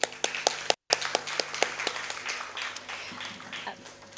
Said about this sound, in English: I would first like to say a big round of applause to all of you for coming out tonight.